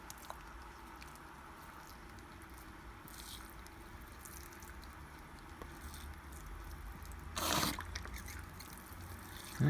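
Warm water poured onto dry compost in potted tomato plants gives a soft, steady patter and trickle, close and quiet, with a brief louder splash near the end.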